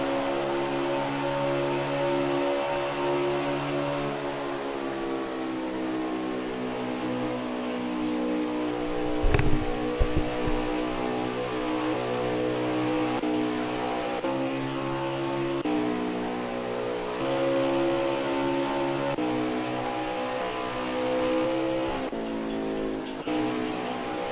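Race cars roar around the track at Las Vegas, with engine notes sustained and shifting as cars pass, plus a brief sharp knock midway.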